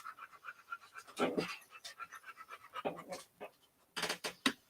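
A four-month-old puppy pants in quick, soft bursts close by, the breaths coming in uneven clusters with brief pauses between them.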